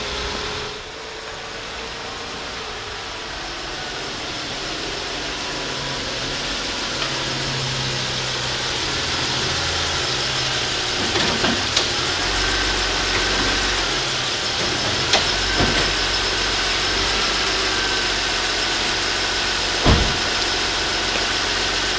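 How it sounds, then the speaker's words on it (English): A 2005 Toyota Camry engine idles steadily for a long stretch, a low even hum with a few faint clicks and knocks, fairly close. "I will be not switching off the engine because I want to have it running"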